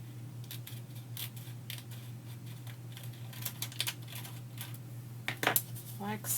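Paper being trimmed for a scrapbook page, a run of short crisp snips and cuts close by, with a few louder clicks and taps near the end over a steady low hum.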